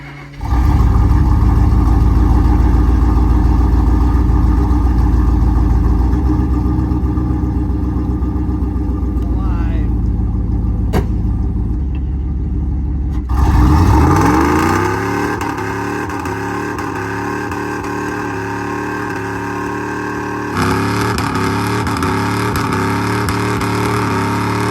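Car engine held against the rev limiter while spinning donuts, a loud sustained bouncing high-rev drone that then drops and shifts pitch as the revs fall and climb again, with people talking over it.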